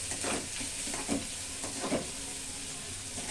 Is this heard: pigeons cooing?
no